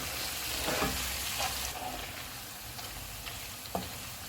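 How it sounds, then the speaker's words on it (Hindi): Mutton pieces frying in a pan for mutton malai boti, a steady close sizzle and crackle with occasional stirring scrapes and taps, fairly quiet and continuous. "तैयार किया हुआ मटन डालेंगे। इसको 2 से 3 मिनट तक भूनेंगे।"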